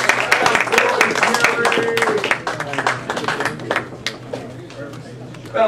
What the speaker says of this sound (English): Let's give a warm round of applause to Mr. Jerry Harris.